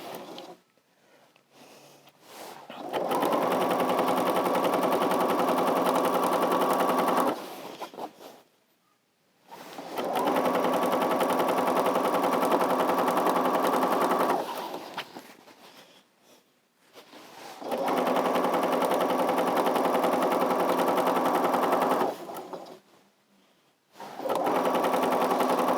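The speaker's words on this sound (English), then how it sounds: "So I'm just sewing 1/4 of an inch." A sewing machine stitches a quarter-inch seam in steady bursts of about four to six seconds each, with brief quiet pauses between runs and a constant close mechanical whir.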